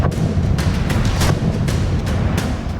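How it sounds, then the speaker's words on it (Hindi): Repeated sharp cracks of gunfire ring out at irregular intervals over a rumbling, echoing background during a security forces' encounter with militants in a forest in Kulgam, Kashmir, fairly loud and close. "कभी गोलियों की आवाज सुनाई देती है तो कभी जोरदार धमाका होता है।"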